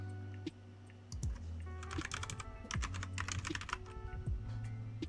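Someone types on a computer keyboard close by in quiet, irregular bursts of crisp key clicks, with a faint electronic hum underneath.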